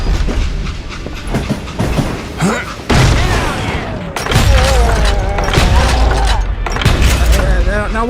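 Train rolling along rails in the Western shooter game Call of Juarez: Gunslinger, a steady loud rumble and clatter mixed with game music, bursts and booms, with a voice talking over it.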